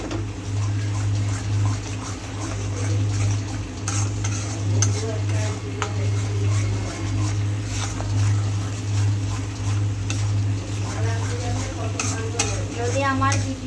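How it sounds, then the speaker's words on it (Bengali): A spoon stirs spice masala with milk in a frying pan, giving continuous scraping and soft sizzling under a steady low hum, with faint clinks of utensil on metal. "যতক্ষণ না মশলাটা আবার তেল ছাড়ছে ততক্ষণ পর্যন্ত এটা নাড়াতে হবে।"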